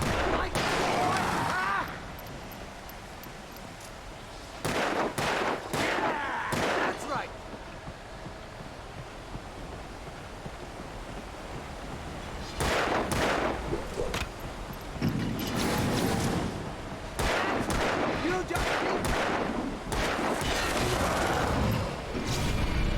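Gunshots from the Alan Wake video game ring out in several sharp clusters, loud and close, separated by quieter stretches of ambient sound, with someone talking at points.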